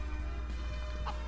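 Chicken clucking from the farming game Harvest Moon: Magical Melody, a couple of short soft clucks near the end over a steady low game background hum.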